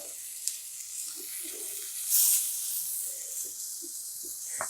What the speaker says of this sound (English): You can hear that really nice sizzle.